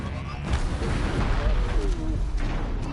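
A Ravager machine in Horizon Zero Dawn fires its back-mounted cannon amid a thick rumble of game noise, with low booming bursts rolling through the mix.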